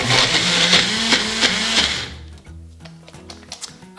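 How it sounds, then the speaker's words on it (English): A small bullet blender whirs loudly through potato salad dressing for about two seconds, its motor droning with rapid pulsing, then cuts off, leaving light clicks and handling noises. "So I'm just using a little bullet blender here"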